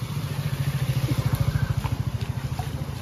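An e-rickshaw (toto) pushing through floodwater near a market road, a steady rapid pulsing motor drone with a rhythmic churn, fairly close and continuous.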